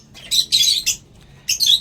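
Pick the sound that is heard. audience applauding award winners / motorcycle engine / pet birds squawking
pet birds squawking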